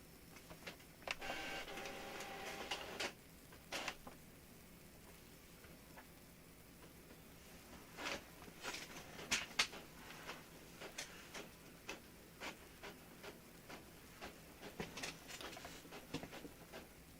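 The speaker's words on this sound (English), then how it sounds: "it sounds like the printer is just losing paper left and right" Home printer printing and feeding paper in a quiet room, with faint irregular clicks, ticks and a short whirring pass, soft and somewhat distant.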